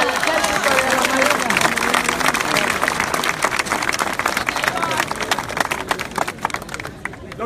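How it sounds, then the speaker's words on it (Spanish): An audience applauds the army and navy at a public event, a loud, dense wash of clapping mixed with crowd voices and cheering that holds steady and then thins slightly toward the end. "Hay que darle un aplauso al ejército y a la marina"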